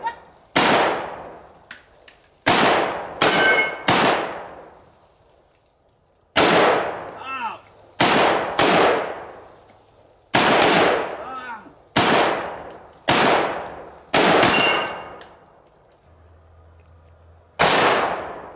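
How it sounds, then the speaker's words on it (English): An AK-47 rifle fires at steel targets outdoors. Loud, sharp shots come singly and in quick pairs, each with a ringing metallic clang and a long echoing decay, spread across the clip with short quiet gaps between. "now we're just gonna take some shots at the steel"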